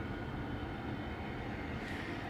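Airplanes coming in to land near a London hotel view suite, heard as a steady, even broadband roar from a distance with no talk.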